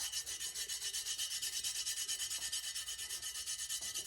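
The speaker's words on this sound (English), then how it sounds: "You just take this glitter, rub it in all the way around the tumbler." Glitter is rubbed by hand around a tumbler in quick, even back-and-forth strokes, a soft, faint, rhythmic hissing scrape that repeats steadily throughout.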